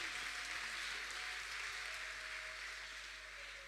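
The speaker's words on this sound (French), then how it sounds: "On acclame le Seigneur." A church congregation applauding and cheering in praise, a steady wash of clapping heard from a distance at low level, fading slightly toward the end.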